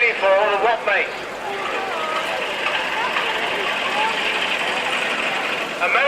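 A vintage American LaFrance fire engine runs at a fairste steam fair, its steady engine drone carrying under a crowd of people chatting nearby throughout.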